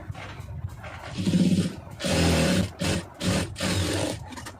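A sewing machine stitching the round neck of a garment, close and loud, running in several short bursts of rapid mechanical whirring with brief pauses between them, and no talking.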